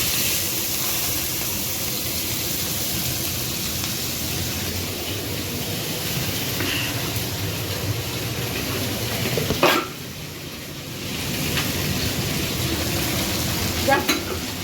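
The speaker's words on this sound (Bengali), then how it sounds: "আলু ভাজাতে দেবো।" Potatoes frying and sizzling in hot oil in a wok, a continuous crackling hiss with occasional stirring scrapes and a brief louder burst near the end.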